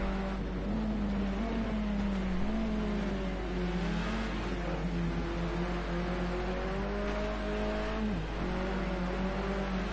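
In the Project Cars 2 video game, a racing car drifts around a hairpin at Oulton Park, its engine note sustained and wavering as revs dip and rise, heard alone at moderate loudness over a steady low hum.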